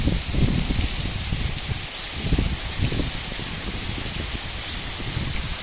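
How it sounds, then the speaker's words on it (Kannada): Heavy monsoon rain pours steadily on a flooded road near Napoklu and Bhagamandala, a dense, continuous hiss with rough low-end rumble and rustling throughout. "ಜೋರು ಮಳೆ ಇದೆ"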